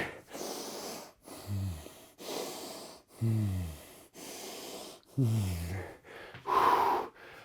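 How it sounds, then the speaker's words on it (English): Heavy, rapid breathing during a push-up workout: a steady run of loud, close gasping inhales and exhales with short pauses between breaths. "Heart rate's flying. Breath is too quick."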